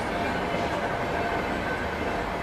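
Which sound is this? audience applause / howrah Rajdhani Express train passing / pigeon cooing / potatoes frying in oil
howrah Rajdhani Express train passing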